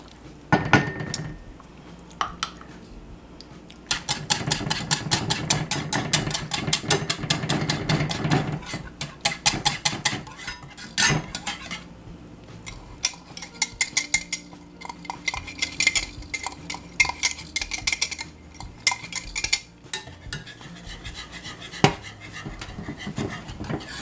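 Flour being stirred into a pot of Danish beef soup with meatballs and dumplings, heard as busy clinks and scrapes of utensil against pot, some bursts louder and denser, with no talking.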